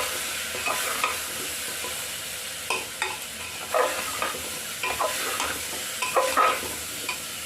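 Vegetables for a mutton-style curry frying in a pan, a steady close sizzle broken by periodic spatula scrapes and stirring bursts, with no one talking.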